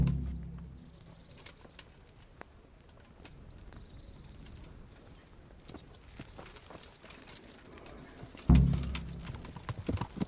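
Horse hooves clip-clop at a steady trot in the medieval video game Kingdom Come: Deliverance, a rapid even patter of hoofbeats with faint birdsong, ending with a louder thump.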